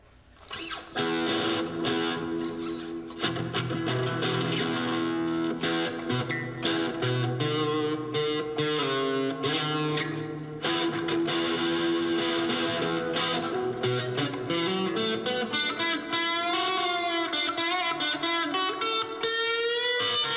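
A heavily distorted electric guitar plays sustained, saturated chords and notes through a high-gain amp, loud and continuous.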